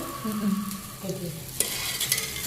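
Food sizzles in a hot pan while a utensil stirs and scrapes through it, a soft continuous frying hiss with a sharp clink near the middle.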